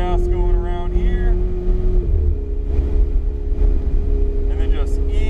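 A Ferrari 488 GTB engine at full throttle rises in pitch and then holds a steady, loud drone from inside the car.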